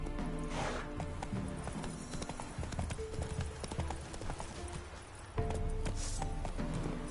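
Horse hooves pound at a fast, continuous gallop in The Witcher 3, close and loud, with clattering footfalls over game sound and a brief surge of noise late on.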